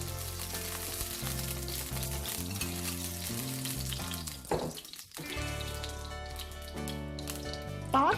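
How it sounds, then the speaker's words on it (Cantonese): Minced garlic fries in a little oil in a wok, crackling and sizzling steadily beneath prominent background music. "爆一爆個蒜蓉。"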